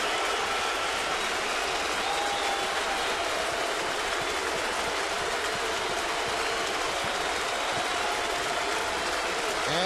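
Nearly 47,000 fans at a 2009 Phillies baseball game roar together in a broad, dense wall of crowd noise, loud and continuous throughout as they urge on a strikeout.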